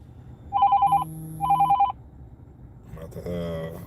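An incoming call rings on a phone, two bursts of a bright electronic ringtone close by, followed by a short stretch of another tonal alert; no speech over the rings.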